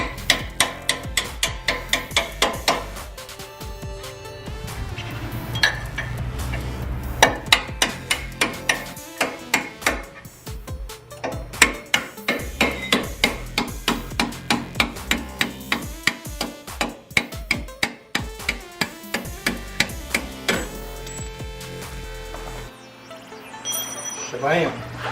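A bolt being hammered through on a 2016 Toyota 4Runner during a lift install, sharp metallic hammer strikes in a steady repeating rhythm, with someone talking and music playing underneath.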